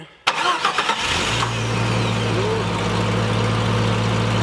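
A Jeep Cherokee XJ engine cranks with a quick stuttering whir, catches, and settles into a steady low idle close by.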